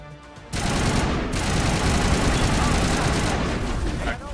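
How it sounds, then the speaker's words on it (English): Sustained rapid gunfire from a player shooting in a video game, a loud dense roar of automatic fire that starts abruptly and continues throughout, with brief quieter moments. "Might as well shoot because I can't run"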